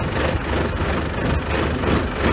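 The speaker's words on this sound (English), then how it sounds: "Do I have to wait for the glow plug or no? No, it's been running." A diesel tractor engine idles steadily nearby with an even, low rumble and broad mechanical noise that runs unbroken throughout, with no talking over it.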